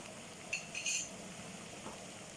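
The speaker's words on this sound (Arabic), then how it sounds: "ونحركو مزيان، ونخليها تطيب مع البصلة حتى تتقلى مزيان" Liver frying with onion, tomato and garlic in a pan, stirred with a utensil that gives a few light metallic clinks over a soft, quiet sizzle, with no speech.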